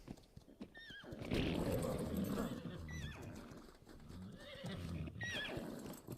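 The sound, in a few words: horses neighing and hooves in video game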